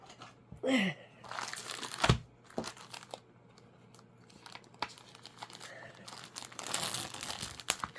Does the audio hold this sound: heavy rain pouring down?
no